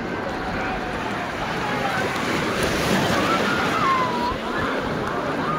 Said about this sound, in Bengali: দেখতে পাচ্ছ কি ঢেউ।